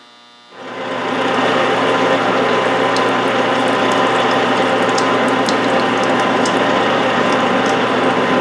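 Lathe turning at very low speed while a reamer cuts a rifle chamber with coolant running during the rebarreling of a Yugoslav M48A Mauser in .308, a steady loud mechanical whir with a faint ratcheting texture, continuous and close, no talk.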